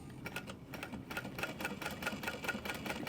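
A sewing machine stitches the exterior of a tote bag, its needle clicking in quick, even repeats, close and steady with no talk.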